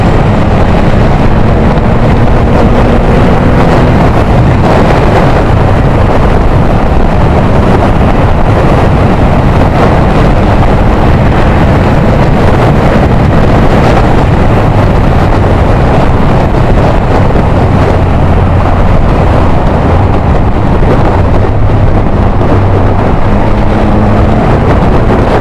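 Triumph Rocket 3 motorcycle exhaust recorded while riding, a loud continuous engine drone heavily buffeted by wind rush throughout, with faint shifts in engine pitch.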